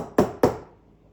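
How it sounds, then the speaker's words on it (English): Milk frothing jug knocked twice on a kitchen counter to pop froth bubbles after steaming with a Breville Bambino Plus BES500 for cappuccino: two close, sharp knocks about a quarter second apart, each with a brief dull ring that fades. "When you see the bubbles, just knock the jug on the counter to break them."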